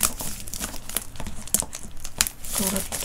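Paper crinkles and rustles in close, busy bursts while a first mini album is unboxed, loud handling noises with a brief tearing sound and a voice talking in between.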